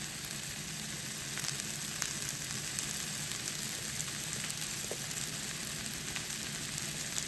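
Onions fry in a pan with a steady, even sizzle and crackle throughout, close and fairly quiet, with a few brief clicks of stirring and no talking.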